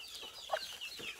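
Several native chickens on a farm cluck faintly nearby, with short overlapping calls in a quick, uneven patter.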